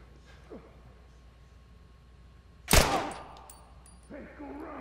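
A single sharp gunshot in The Last of Us Remastered, loud and close with a brief ringing tail, standing out against a quiet background with faint game sounds before and after.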